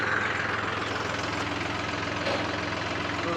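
A tractor engine runs steadily at a low idle during unloading, a continuous throbbing rumble close by with no voices.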